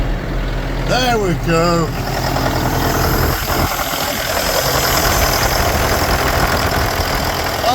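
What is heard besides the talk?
John Deere 6005R tractor engine starting and idling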